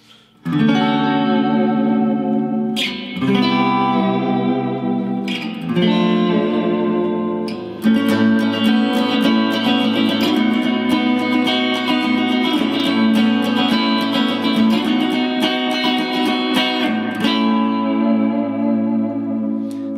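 A full hollow body electric guitar strums sustained, heavily effected chords with a warm, reverberant tone, changing chords every few seconds, with no voices.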